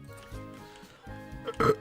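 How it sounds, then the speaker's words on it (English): A single loud burp near the end of a short stretch of quiet background sound, close to the microphone during a live game stream. "It's probably all my burping I'm doing."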